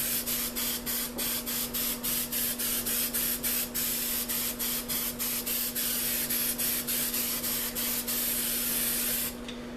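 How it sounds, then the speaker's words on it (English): Steady hiss of a spray paint can in continuous short bursts with brief pauses, close and loud, with a constant low hum underneath. "What I'm doing now is I'm spraying black and kind of easing back off into it."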